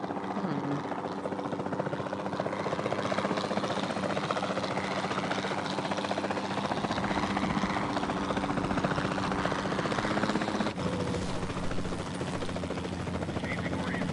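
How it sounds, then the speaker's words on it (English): Capture team helicopter in the video game Jurassic World Evolution 2, a steady loud rotor drone and engine hum that continues throughout, with a voice talking over it. "Then the sensible thing is to take a capture team helicopter."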